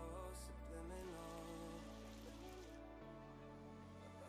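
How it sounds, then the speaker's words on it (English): Steady rain falling in the Minecraft video game, a continuous even hiss that stays at a constant level throughout, with game music tones layered underneath and no talking. "Or is it because it's raining?"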